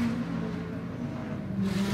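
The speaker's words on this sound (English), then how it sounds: "so we're watching the GT cars going around" GT race cars lapping a street circuit at the 2022 Adelaide 500 Supercars event produce a faint, steady engine drone heard from a distance.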